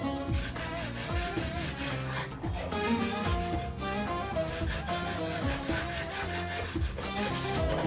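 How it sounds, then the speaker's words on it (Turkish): Sandpaper rubs back and forth across a dirty, greasy kitchen stove surface in steady, rhythmic rasping strokes, close and continuous with no talking. "Zımparayla daha güzel oldu."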